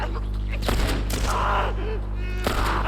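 Gunfire in The Last of Us: a few sharp shots crack out over a constant electrical buzzing hum, with brief vocal sounds between them.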